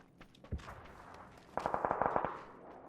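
Gunfire in the video game PUBG: a single sharp shot, then a rapid burst of about eight evenly spaced automatic shots, fairly close and loud against a quiet background.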